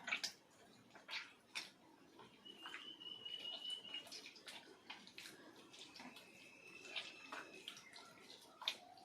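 Flour dough is squeezed and kneaded by hand in water, giving soft, intermittent sloshing and squelching splashes close up, fairly quiet, with a few faint high tones in the background.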